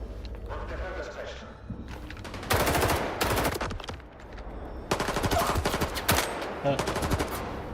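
Automatic gunfire in the video game STALKER 2 comes in two loud rapid bursts, a short one and then a longer sustained volley, with a voice talking over the quieter stretches.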